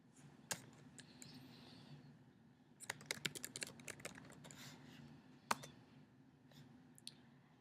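Quiet keyboard typing, with bursts of rapid key clicks and a few sharper single taps, close by and without talk.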